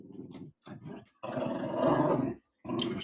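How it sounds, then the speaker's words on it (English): A small Chihuahua-Pomeranian mix dog growls in several close, rough bursts separated by short pauses, the longest growl swelling in the middle. "That was my dog."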